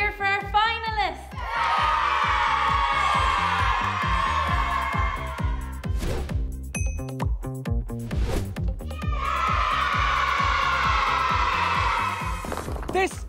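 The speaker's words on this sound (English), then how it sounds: "cheer for our finalists" An audience cheers for finalists in a loud, sustained burst of crowd shouts and children's cheering. After a break of scattered claps and noise, a second roar of cheering follows.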